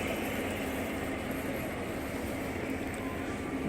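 A model train runs through a tunnel on a museum layout, giving a steady, dense rumble with a constant roar and no clear breaks.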